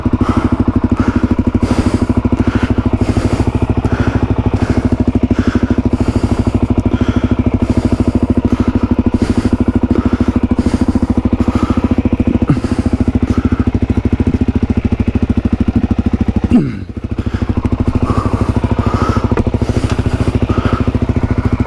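Suzuki DRZ400E enduro motorcycle engine running steadily and revving while stuck on a steep hill after a rock strike, loud and close throughout with a brief thump and dip near the end.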